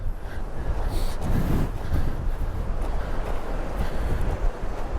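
Strong wind buffets the microphone on a winter coastal hike at Hengistbury Head, a steady roaring rush with louder gusts, heard alone without talk.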